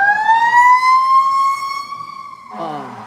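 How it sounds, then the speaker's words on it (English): A fire truck siren wails loudly in a long rising-and-falling tone as it passes close, then drops away into lower blasts with a voice talking briefly underneath. "That was a fire truck."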